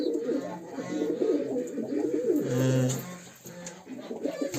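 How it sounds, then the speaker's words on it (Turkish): Tumbler pigeons coo in a low, continuous rolling murmur close by, several birds overlapping without pause, while someone speaks briefly over them. "Kuşların çoğu e, taklayı dönmüş hazıra yakın kuşlar"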